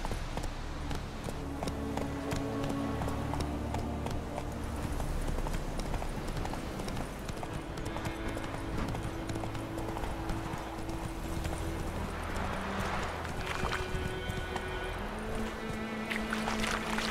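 Roach, a horse in the video game The Witcher 3, gallops with a continuous rapid clip-clop of hooves that runs steadily throughout, set within dense game ambience.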